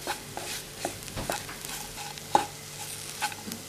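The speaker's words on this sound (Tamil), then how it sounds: "இதோட பச்சை வாசம் மாறுற வரைக்கும் வதக்கிக்கலாம்." Turmeric and whole spices are sautéed in a pan for country chicken kulambu, with a low steady sizzle under repeated scraping stirs and occasional light clinks of the spoon, close by and without talk.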